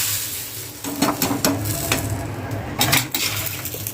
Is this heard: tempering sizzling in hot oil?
yes